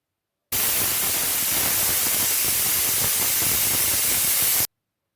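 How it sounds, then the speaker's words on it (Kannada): A pressure cooker on the stove, cooking ivy gourd for a palya, lets off a loud, steady jet of hissing steam for about four seconds, starting and stopping abruptly. "ಓಕೆ ಇವಾಗ ಒಂದು ವಿಷಲ್ ಆಗಿದೆ"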